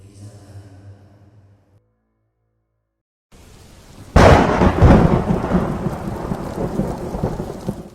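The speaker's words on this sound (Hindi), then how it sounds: "हल्की फुल्की बारिश भी हो रही थी।" Thunderstorm with a sudden loud thunder crash, then steady rain and rumbling that carry on; before it, a quieter stretch and a brief silent gap.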